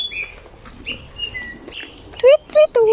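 Birds on a hiking trail in Hong Kong give bright chirps and whistled calls, ending in three loud, close, rising notes in quick succession over quiet outdoor background.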